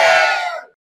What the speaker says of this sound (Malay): Mungkin kita boleh dengarkan gendang ataupun sorakan daripada mandat.